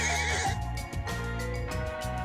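A horse in the video game Ys 4: Memories of Celceta lets out a loud, close whinny with a wavering pitch, followed by snorting breaths and a few soft hoof sounds.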